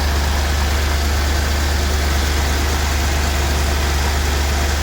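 A 1981 Buick Electra Park Avenue idles just after a cold start, a steady loud low rumble with even vibration that holds unchanged throughout, close by and without speech.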